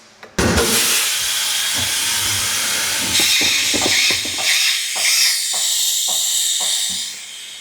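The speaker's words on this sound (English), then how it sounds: "Air goes in a lot quicker without the valve in the way." Compressed air hissing into a tire through an open valve stem with the valve core removed: a loud, sustained rushing hiss that starts abruptly, pulses with brief surges and clicks, then eases off near the end.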